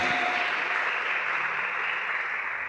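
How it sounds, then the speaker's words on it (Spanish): Applause from a church congregation, a steady dense wash of clapping that holds loud and even from start to finish with no voices over it. "Dale fuerte el aplauso a papá."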